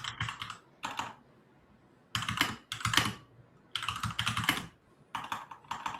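Computer keyboard clacking up close during a live DNS-validation debugging session, typed in quick bursts of keystrokes broken by short pauses, with no talking.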